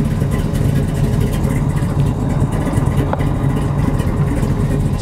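The 468 big-block engine of a 1969 Chevrolet Camaro idles after a cold start, a loud, steady, rumbling drone heard close up without talk.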